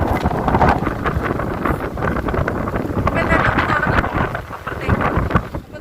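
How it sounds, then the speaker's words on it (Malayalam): Strong, steady wind roars and buffets the microphone throughout on a hilltop at Muneeswaran Hills, Wayanad, with occasional voices faintly mixed into the gusty rush. "കാറ്റൊരു രക്ഷയില്ല കേട്ടോ"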